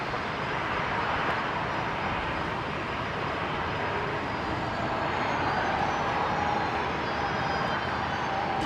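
Airliner making a full-length departure from runway 19 left, a loud, continuous broadband engine roar with a faint high whine, steady throughout without voices.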